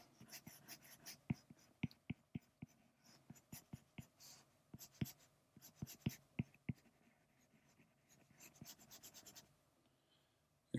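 A pencil scratches out a cartoon Viking character in quick, irregular strokes and ticks, close and fairly quiet, with short pauses between bursts of marks.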